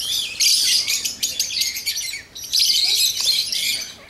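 Birds in Guatemala chirp and trill in bright, busy bursts, several overlapping calls nearby with a brief lull midway before the chatter resumes.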